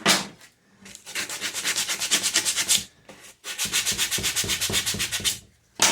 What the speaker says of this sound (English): Sand off this burr right here.